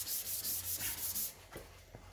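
Block sanding with 220 grit paper on small body repairs of a 1968 Firebird, heard as close rhythmic rasping strokes, several in a row, then lighter, sparser rubs.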